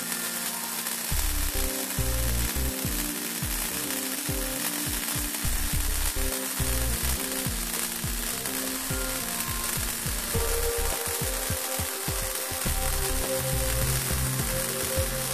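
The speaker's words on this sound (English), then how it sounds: "this is a demonstration of a vertical weld onto stainless steel" MIG welding a vertical seam on stainless steel with an R-Tech MTS210D multi-process welder, a continuous loud crackling buzz with a rapid irregular sputter that holds steady throughout without pauses.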